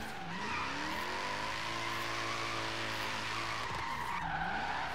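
Tires squealing and skidding as a car with an LSX-swapped wide-body BMW E46 drifts on dirt in Forza Horizon 3, a continuous loud engine drone with sliding tire noise throughout, no talking.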